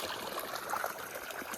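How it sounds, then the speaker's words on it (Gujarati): Irrigation water running through an okra field, heard as a faint, steady trickling rush nearby with no voices over it. "આ જોઈ શકો છો મિત્રો પાણી આપણે ચાલુ થઈ ગયું છે."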